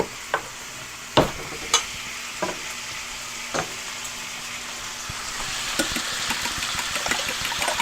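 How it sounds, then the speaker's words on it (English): Fresh eggs are beaten with a fork at close range: a few sharp clinks and taps against the bowl, then a faster, steady wet whisking that builds toward the end, with a faint background hum. "I'm going to get a fork and give those eggs a mix"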